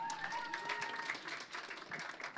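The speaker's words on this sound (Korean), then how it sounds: "박수 부탁드리겠습니다." Brief applause from an audience at a campaign office opening in Daegu, fairly faint and short, with a tonal hum or voice-like line running underneath.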